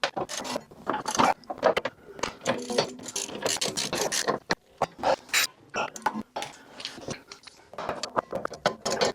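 A hand ratchet tightens suspension bolts on a Jaguar XK8 during a rear spring and shock absorber fit, rapid clicking bursts repeating in close, busy runs with short pauses between strokes.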